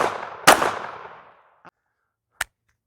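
Handgun fire during recoil-control practice: the fading echo of one shot, then a loud, sharp crack with a ringing decay, followed by two brief, sharp clicks or snaps in near silence.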